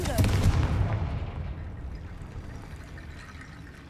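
Confringo fire spell explosion in Hogwarts Legacy, a loud booming blast at the start that rolls off into a long fading rumble and crackle.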